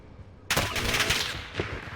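Gunfire in the video game Rebirth: a sudden loud burst of rapid automatic shots breaks in after a short quiet moment and keeps up as fast, close cracks, with a heavier shot near the end.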